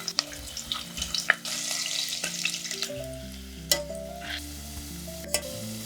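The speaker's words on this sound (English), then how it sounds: "heat a few tablespoons of oil, add diced potatoes and cook until golden" Diced potatoes fry in oil in a pan, sizzling and crackling, with occasional clinks and stirring sounds and a low hum in the background.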